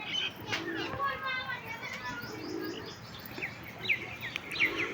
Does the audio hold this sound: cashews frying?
no